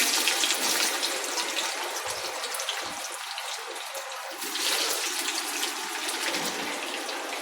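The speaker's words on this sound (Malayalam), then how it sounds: "നമുക്ക് ബാക്കിയും കൂടെ ഇട്ട് വറക്കാം അതിനകത്തോട്ട്." Food sizzling as more pieces are dropped into hot oil in a pan, a steady, fairly loud frying hiss that swells slightly toward the middle and holds for several seconds with no talking.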